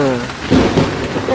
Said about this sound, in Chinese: 没看见下雨了吗